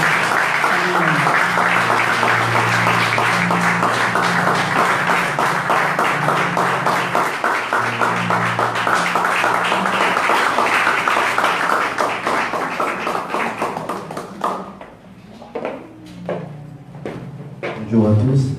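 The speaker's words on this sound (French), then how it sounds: "Sous vos acclamations, nous recevons le frère Jean-René" Loud applause from a church congregation at a Sunday worship service greets a preacher, thick clapping running for several seconds over a held organ or keyboard chord, then thinning out and stopping near the end.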